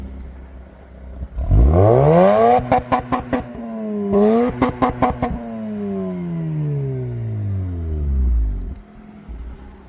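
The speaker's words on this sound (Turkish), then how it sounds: "O zaman videoyu egzozla kapatıyoruz." A Mazda RX8 is revved hard through its exhaust, with several sharp, loud, close-up bursts that climb and fall back to a rumbling idle and no voices.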